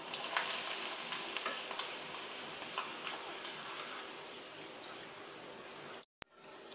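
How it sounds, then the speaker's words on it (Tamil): Appalam (papad) frying in hot oil for a simple Tamil home lunch, a steady close hiss of bubbling oil with scattered sharp crackles and pops throughout, cutting off abruptly near the end. "இப்போ எண்ணெய் காஞ்சிருச்சு, அப்பளத்தை நம்ம பொரிச்சு எடுத்துக்கலாம்."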